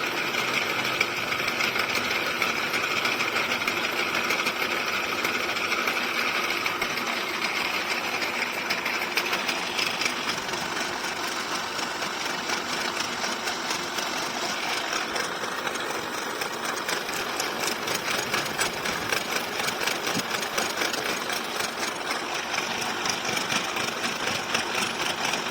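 A lathe or similar machine runs steadily while a magneto housing is machined to a depth checked against a dial indicator, giving a continuous, fairly loud mechanical whir with an engine-like hum and no speech.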